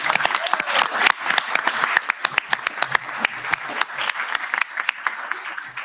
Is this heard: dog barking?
no